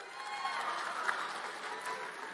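An audience at a TPUSA event claps in a steady, moderately distant patter of applause, with a few scattered cheers mixed into the crowd noise.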